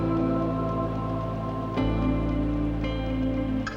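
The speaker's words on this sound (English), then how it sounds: "I've also got some hail or sleet or something coming down as well" Hail or sleet patters steadily outdoors on a morning at the Quiraing on the Isle of Skye, a dense, continuous hiss with a low background drone and a sharper knock partway through.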